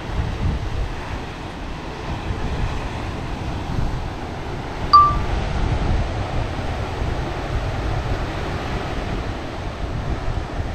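Steady low rumble of wind buffeting the microphone while flying a drone in sports mode, continuous and fairly loud, with a brief faint beep partway through.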